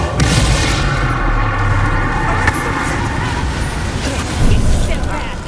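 A Bombarda spell detonates during a wizard duel in Hogwarts Legacy, a deep booming blast amid battle noise with a voice speaking over it.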